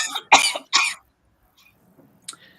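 A man suffering from hay fever lets out a few sharp, close coughs in quick succession, followed by a brief pause and a softer cough or throat noise.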